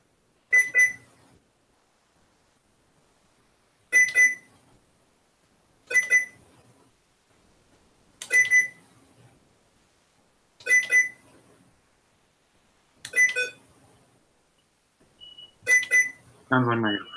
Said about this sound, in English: Sounds like my fire alarm.